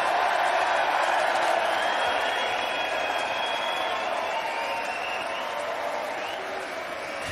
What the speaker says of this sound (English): So please give a big applause for Jonny Clayton.